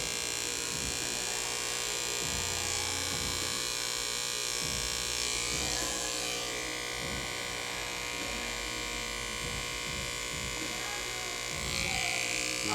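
Electric hair clippers buzz steadily up close while cutting hair along the back neckline from earlobe to nape, with someone talking over the hum.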